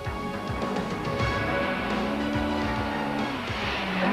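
A Cosworth-powered rally car on a special stage of the 1991 Tour de Total, its engine revving hard and rising and falling as the tyres skid and squeal for grip, loud and continuous.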